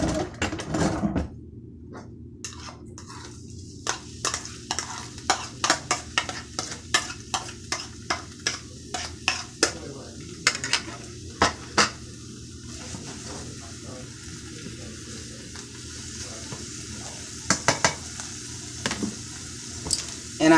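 Hamburger meat frying in a skillet with a little oil, a low continuous sizzle under repeated sharp scraping and stirring clicks from a utensil, close by, with brief speech near the start.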